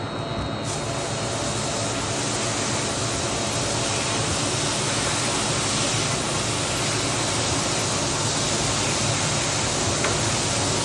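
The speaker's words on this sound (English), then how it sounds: "Let's just rinse the top one off and put it in there." Water rinses a rug during rug cleaning, producing a loud, continuous, even hiss of spraying and splashing that holds steady throughout without pauses.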